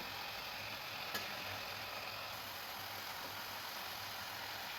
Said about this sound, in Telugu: తర్వాత మునక్కాయలను వేసి కలపాలి